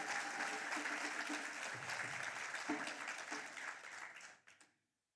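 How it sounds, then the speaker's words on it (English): An audience applauds at a taxpayer appreciation awards ceremony in Swakopmund, Namibia: a full wash of many hands clapping in a room, steady for several seconds before tapering and dying away to silence. "Can I hear a round of applause and excitement in the room?"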